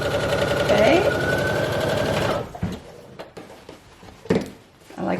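A sewing machine stitches dress shirt fabric in a fast, steady mechanical whir for about two seconds, then stops, leaving quiet handling sounds and soft bumps.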